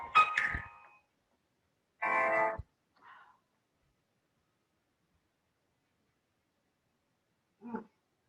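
A mobile phone ringtone sounds in short tonal bursts separated by silence in a quiet room, fairly faint and intermittent.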